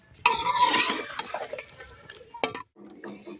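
Mixed vegetables for a traditional winter sabzi stirred and roasted together in a pan in a rural Punjabi mud-house kitchen: brisk scraping and clattering of the spoon against the pan over a light sizzle, loud and close, with short pauses.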